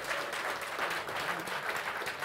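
An audience applauds a folk music ensemble, a steady, moderately quiet wash of many hands clapping throughout.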